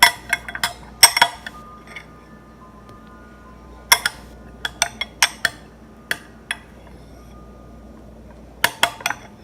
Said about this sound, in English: You can easily remove the seeds with a spoon.